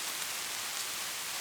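Gentle rain falls as a soft, even hiss, steady and fairly faint throughout, with no voices.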